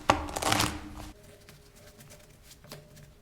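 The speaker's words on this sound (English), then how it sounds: "I'm going to shuffle the cards." A deck of playing cards shuffled for a No Limit Hold'em poker game, a quick close riffle burst followed by lighter scattered clicks and taps as the cards settle.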